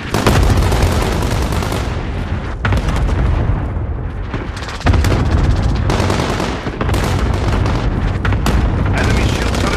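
Cluster strike explosions in the Call of Duty Modern Warfare video game, a dense, loud barrage of booms and rumbling blasts rolling nearly continuously, with brief dips between waves.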